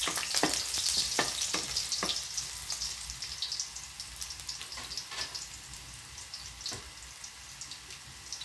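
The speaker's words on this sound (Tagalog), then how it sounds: "Lalagay na natin yung ating bawang." Garlic sautéing in hot oil in a pan for a sardine and papaya dish, giving a close, continuous crackling sizzle, busier and louder at first with quick scraping stirs, then settling to a steadier hiss.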